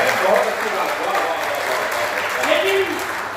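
Sustained applause from an audience, steady and fairly loud throughout, with some voices faintly mixed in.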